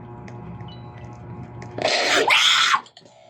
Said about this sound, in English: You made me scream.